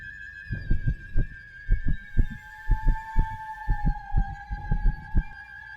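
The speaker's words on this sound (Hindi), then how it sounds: "दिल की धड़कन तेज हो गई।" A steady heartbeat thumps in a regular double-beat rhythm, low and close, over a constant high electronic tone and a slowly gliding hum.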